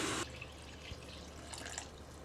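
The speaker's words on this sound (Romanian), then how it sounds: "Mai punem un pic de apă și o să încep să condimentez." Water pours briefly into a pot of goulash as it cooks, a short splashing gush at the start followed by faint dripping and quiet bubbling close by.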